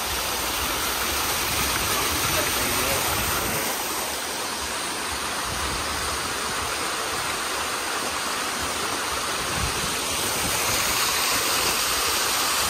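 A steady, full roar of falling water from a high waterfall rushes without a break, close and loud, with a faint gusty undertone of wind.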